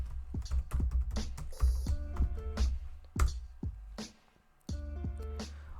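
A password is typed on a computer keyboard at close range, a quick run of crisp key clicks with a short pause before a final burst of keystrokes.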